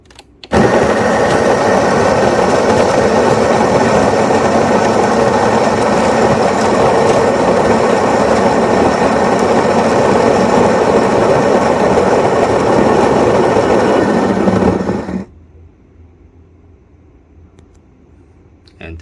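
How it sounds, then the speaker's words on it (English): A coffee grinder grinds beans in a steady, loud, continuous whir that runs for about fifteen seconds, then cuts off abruptly into near silence. "when the grinder grinds the coffee, it is in a controlled manner"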